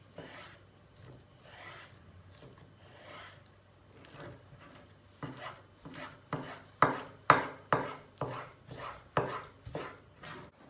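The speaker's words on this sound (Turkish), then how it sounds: "Tavuk göğüslerini elimizden geldiği kadar ince doğrayacağız." Knife chopping chicken breast thinly on a board, quiet and sparse at first, then a steady run of sharp, evenly spaced chops growing louder toward the end.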